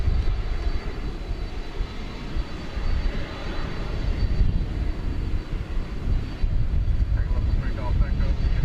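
A tri-jet airliner on the ground at DFW Airport makes a broad, steady engine rumble and roar that holds through the clip, with a voice talking over it.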